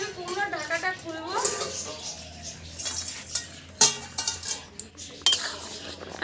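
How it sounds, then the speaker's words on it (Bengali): A metal lid is lifted off a pot of ash gourd cooking on the stove, giving a few sharp clinks and clatters of cookware over steady background noise while someone talks. "এবার কিন্তু আমি কুমড়োর ঢাকাটা খুলবো।"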